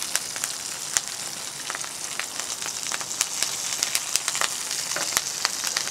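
Garlic and saffron sizzling with spiny lobster in a hot pan, with lemon thyme added, give a steady, close frying hiss full of sharp crackles and pops that continues without pause.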